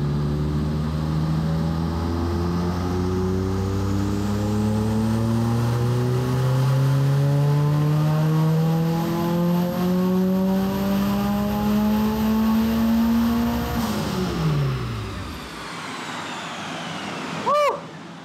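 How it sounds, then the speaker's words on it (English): A 240,000-mile Mitsubishi Eclipse GSX DSM engine on a dyno pulls in a long, loud rising rev that climbs steadily for about fourteen seconds, then drops off sharply into a brief lull, with a short pop or blip near the end. "we're about to go for a base run just to get AFR set"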